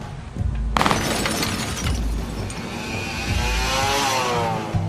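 Radio drama effect of gunfire on a white Mercedes flanked by two motorcycles: a sudden sharp burst of shattering glass rings out over a steady engine rumble, followed by crackling debris and a continuing motor drone.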